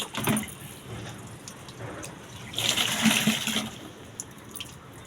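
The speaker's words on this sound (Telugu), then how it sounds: "నోట్లో నీళ్ళు పోసి కడగవా?" A child rinses their mouth with water after brushing their teeth, giving a soft splashing and swishing that swells for about a second midway over faint background hiss.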